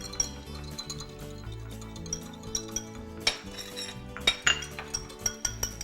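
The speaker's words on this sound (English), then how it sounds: "Just gonna give it a little whisk here." A whisk strikes a bowl as vinaigrette is mixed with milk and olive oil, giving sharp metallic clinks and taps, some scattered and some in quick runs, close by with no talking.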